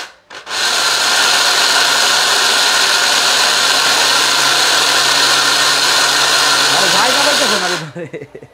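A Miyako food processor runs loudly at full speed for about seven seconds, a steady dense whirring roar that starts abruptly and winds down at the end, with a voice heard briefly near the close.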